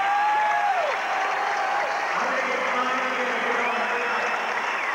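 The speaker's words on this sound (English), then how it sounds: "Tracy and Tim Lywicki getting a standing ovation from the Comet fans" A crowd of Comets fans rises in a standing ovation at a 1989 MISL indoor soccer playoff game, with loud sustained applause and cheering, broken by whistles, filling the whole stretch.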